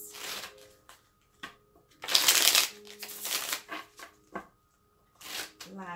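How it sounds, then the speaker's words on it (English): A tarot deck is shuffled in short papery bursts, a long riffle standing out in the middle, with quieter handling noises and a person talking in between. "Two more shuffles, please."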